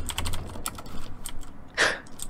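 Computer keyboard typing during a Minecraft Super Smash Mobs session, a short run of quick clicky keystrokes up close, with a louder burst near the end.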